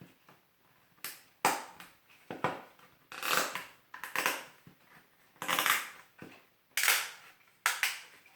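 Plastic storage insert for a board game being pressed and clipped into place, a series of sharp cracking and crunching snaps in irregular bursts, close and fairly loud with no talk.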